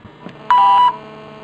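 Telephone beep tones during a call to a city hall: a faint tone early, then one loud steady electronic beep lasting under half a second, clear and close.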